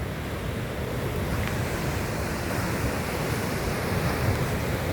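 Turbulent sea water surges into a coastal creek at Kapu, a steady, loud roar of churning waves mixed with wind buffeting the microphone, with no voices.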